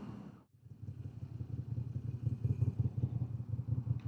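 A 2026 Moto Guzzi V7 Sport motorcycle engine rumbles and revs up, its throbbing growl building louder and steadier after a brief dip.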